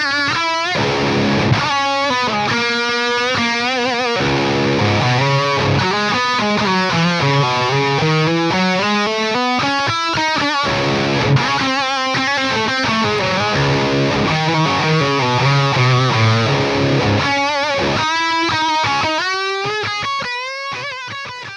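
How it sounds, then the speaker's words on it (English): Heavily distorted electric guitar played through a VX Kraken amp, loud and continuous, with thick sustained chords and melodic runs that stay clear despite the saturation, heard alone without talking. "having that distortion sound that I've always wanted whilst keeping the clarity"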